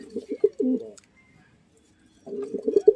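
Rooftop pigeons give low, gurgling coos up close, one burst of calls followed by a short silence and then another throaty run.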